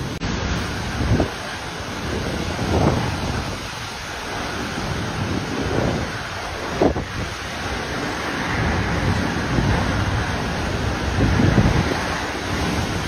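Tropical storm Paeng (Nalgae) in the Philippines roars with loud, continuous wind and rain, buffeting the microphone and swelling in heavy gusts, with no voices present.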